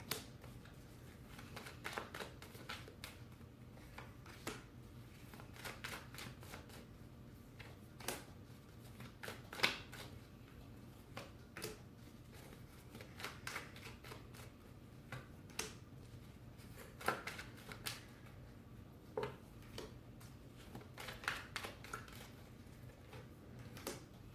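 Soft, irregular riffling and flicking of tarot cards being shuffled, repeated in short bursts over a quiet background, with no voices.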